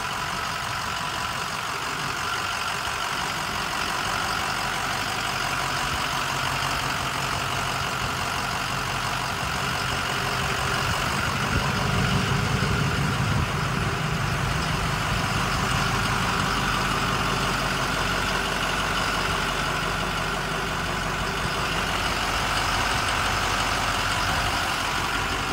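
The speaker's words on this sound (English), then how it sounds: "I've had it running here for the last hour or so idling." A 2005 International 4200 digger derrick truck sits idling for a long stretch, its engine giving a steady, even rumble with a constant hum and no talk.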